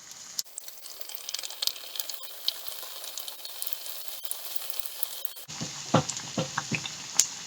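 Battered chicken deep frying in oil gives a steady, soft bubbling sizzle with small pops, growing louder and crackling more sharply near the end.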